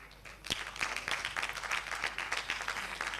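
An audience applauds for contestants at a televised Faso Academy 2020 singing competition round, a dense, steady burst of clapping heard from a slight distance.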